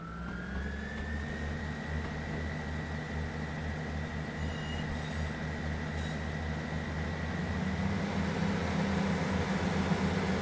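High-speed train in the Train Sim World 3 game on the Midland Main Line, a steady loud rumbling roar with a sustained whine that builds slightly toward the end, no talk.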